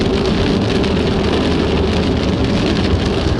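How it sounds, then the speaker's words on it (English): Heavy rain pours down in Donegal, Ireland, along the Wild Atlantic Way, a loud, dense, continuous hiss of drops drumming on a nearby surface with a low rumble underneath and no talk. "Perfect photographic conditions, pouring rain."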